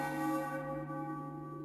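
A single deep bell stroke rings out in Final Fantasy IX, a clear struck tone with long sustained, slowly decaying overtones, heard alone.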